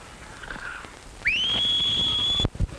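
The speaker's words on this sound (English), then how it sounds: "Trying to whistle?" A single sustained human whistle, rising quickly then holding one clear high pitch for about a second before stopping abruptly.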